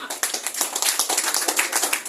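A quick run of sharp hand claps or taps, close and fairly loud, repeating in a fast, slightly uneven rhythm with no talking.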